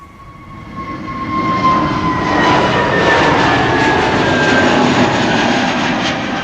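A Cathay Pacific cargo airliner takes off from Schiphol's Polderbaan runway, its jet engines swelling into a loud, steady roar with whining tones that hold close and strong throughout, with no voices over it.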